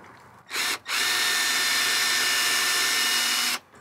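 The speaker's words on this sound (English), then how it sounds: "I'm putting my drill in reverse so that I'm for sure not gonna bite into the wood and drill out an entire hole" A power drill runs in reverse while countersinking screw holes in plywood for a van's framing: a short burst, a brief pause, then one long steady whine of about three seconds, close and loud.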